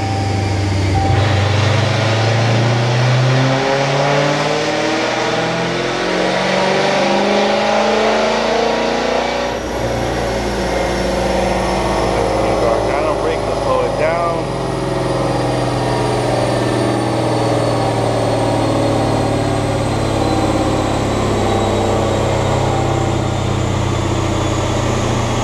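Dodge Challenger Scat Pack with a stage 2 cam runs loud and close, its engine idling with a lumpy, uneven rumble and revving up in steady surges throughout.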